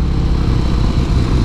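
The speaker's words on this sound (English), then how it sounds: "It already has that growl to it with the stock exhaust." A Harley-Davidson CVO Breakout motorcycle on its stock exhaust gives a continuous, loud, close-up engine growl that stays steady throughout, with no talking.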